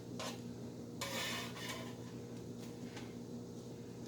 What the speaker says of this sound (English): we're going to flip these over